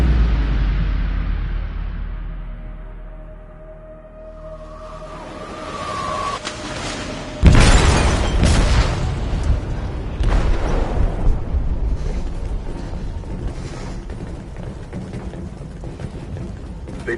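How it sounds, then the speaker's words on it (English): An explosive detonates in the hold of a ship in Detroit: Become Human, a sudden loud blast that gives way to rumbling, creaking and crashing debris, with further impacts as the sinking vessel groans on. "They detonated an explosive in the hold. The ship is sinking, sir."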